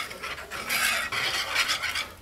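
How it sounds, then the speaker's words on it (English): A spoon scrapes and swirls steadily through homemade country gravy as milk is stirred in, giving a continuous close rasping, slightly sizzling sound with no voices. "then you start stirring milk in with it, and that's how you make homemade country gravy"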